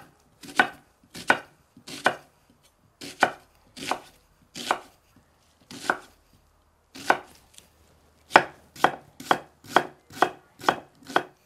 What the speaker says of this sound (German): Dann haben wir hier als nächstes unsere Gemüsezwiebel. Die schneiden wir gerade auf und dann in kleine Stücke.